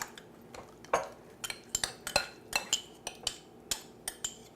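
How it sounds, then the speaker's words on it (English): A utensil scrapes mustard into a kitchen bowl, giving a series of light, irregular clinks and taps against the dish, close and fairly quiet, with no talking. "Put that mustard in for me. Just scrape it all in there."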